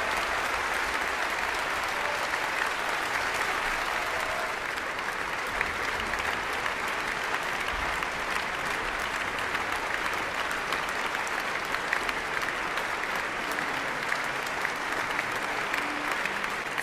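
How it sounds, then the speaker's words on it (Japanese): Thunderous concert audience applause for the musician, a dense, steady wash of many hands clapping throughout with no letup and no speech. "割れんばかりの拍手、それは音楽家への最高の賞賛です。"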